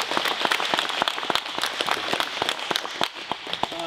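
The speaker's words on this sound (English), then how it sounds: "Let's give them all one more round of applause." A school DARE graduation audience claps in a steady, dense patter of many hands, moderately loud and continuous throughout, with no voices over it.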